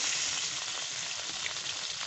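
Stinging catfish frying in hot oil in a home kitchen, a loud, steady, close sizzle that hisses without a break for the whole stretch, with no talking.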